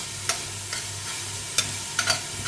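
Onion fries in spiced fish oil in a pot, a steady sizzle broken by several sharp scraping stirs of a utensil at irregular intervals.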